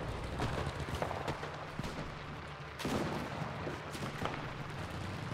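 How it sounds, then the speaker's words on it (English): Gunfire and artillery explosions in the video game Enlisted, Pacific War campaign: a dense barrage of distant shots and booming blasts, with a heavier thump near the middle, all at moderate loudness. "There's so many shots and explosions going off. Was that from artillery?"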